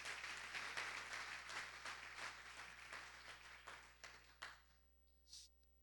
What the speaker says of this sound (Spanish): Da un aplauso, dile: Señor,